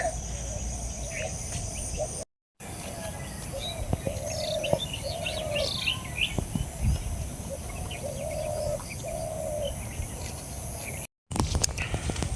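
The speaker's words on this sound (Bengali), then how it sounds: "সকালবেলা গুগু পাখির ডাক" Morning calls of ghughu doves beside rice paddy fields, soft repeated cooing phrases against a constant chorus of insects and other birds, moderately distant and with no one talking.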